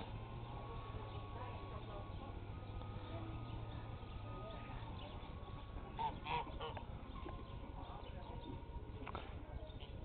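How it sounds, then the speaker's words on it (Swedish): A flock of ten domestic geese on a village farm honks in scattered calls, faint and somewhat distant, over steady background noise while a person talks. "Här har vi gässen. De har många gäss."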